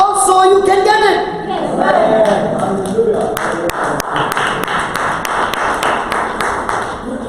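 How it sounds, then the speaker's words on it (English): A small audience at a church retreat in Gujarat claps sparsely after a voice fades out. Scattered, uneven claps come from a few people over a low room hum. "What a small clap"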